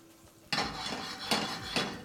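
Garlic frying golden in a pan gets stirred with a utensil, giving three sharp metallic scrapes and clinks against the pan over a low sizzle, close and clear with no voices.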